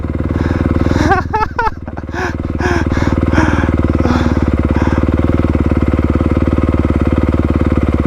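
A motocross bike engine runs with a continuous, buzzing drone; people's voices briefly rise over it early on.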